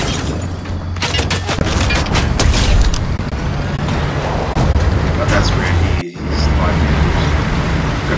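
Gunfire in the Fortnite video game, with dense, continuous shots and booms under a steady game backdrop that cuts out briefly near the end.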